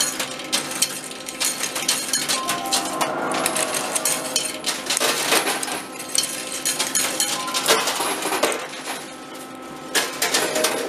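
Coins clatter and tumble inside a coin pusher machine, a busy metallic jingle of many drops and clinks with repeated pushes, loud and close over a steady mechanical hum with no talk.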